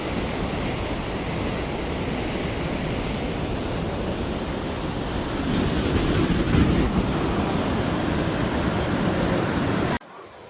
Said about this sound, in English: Got some crazy rapids up here.